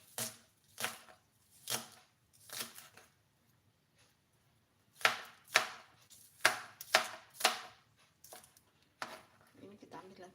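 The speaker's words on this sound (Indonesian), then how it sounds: "bagian putihnya kita iris, daun bawang bagian putih ya" The white part of a spring onion being sliced with a knife on a cutting board for village-style fried rice, sharp crisp chopping strokes in irregular bursts, some quick runs of several cuts, close and fairly quiet.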